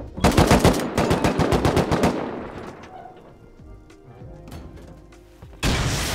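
Rapid bursts of automatic gunfire firing incendiary rounds at a base roof in the survival game Rust, loud and close, a dense volley for two seconds, then sparse shots and impacts before another loud burst.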